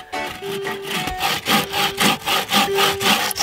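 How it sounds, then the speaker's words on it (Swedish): Handsaw cutting halfway into a wooden crossbar along marked lines at a bushcraft camp, with steady back-and-forth strokes in an even rhythm, close and fairly loud, no talking. "Och så sågar vi halvvägs in längs markeringarna här."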